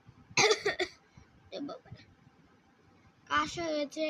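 A few harsh coughs in short bursts, spaced apart, close to the listener, with a bit of speech at the end.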